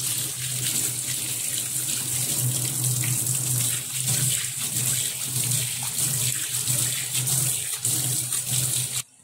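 Tap water runs steadily into a stained steel sink as it is washed, a close, continuous splashing rush that stops abruptly at the end, with no talking.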